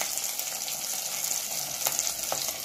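Four cloves of garlic sizzle in hot oil in a pan as part of a Tamil lunch, making a steady bright crackle with a couple of louder stirring pops.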